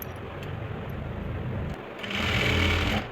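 A sewing machine stitches a belt onto an Afghani salwar, its low motor whir running steadily before a louder, brighter burst of fast stitching near the end.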